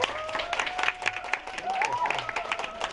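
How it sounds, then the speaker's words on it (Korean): Applause from a concert audience for the drummer, moderately loud broadband clapping across the whole moment, with a sustained musical tone and a voice faintly audible underneath. "박수를 한번"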